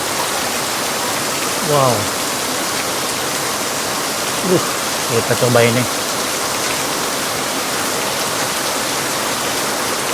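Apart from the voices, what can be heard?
heavy rain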